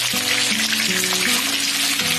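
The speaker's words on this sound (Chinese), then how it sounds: "一直把鱼块煎至金黄就可以了。" Fish pieces shallow-frying in oil over low heat, a dense steady sizzle filling the whole stretch with no talk.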